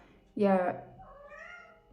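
A single close cat meow, short and bright, followed by a softer trailing vocal sound.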